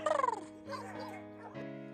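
A beagle puppy at a puppy seller's whimpers and yips in a short, high, wavering cry up close, followed by softer whines over a low background hum.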